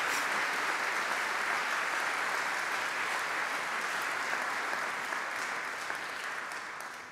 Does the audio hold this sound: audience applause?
yes